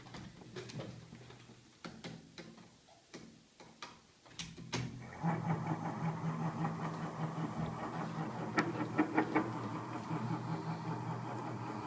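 An electric e-liquid mixer on a wooden table whirs continuously after a few scattered knocks and clatters at the start, moderately loud and close.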